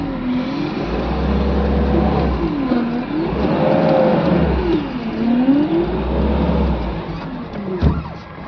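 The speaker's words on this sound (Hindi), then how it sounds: "ये स्टार्ट हुई गाड़ी" A Mahindra Xylo D2 diesel engine running at idle with a fault code, its low rumble rising and falling as the revs swing up and down in repeated waves, loud and close, ending with a brief knock.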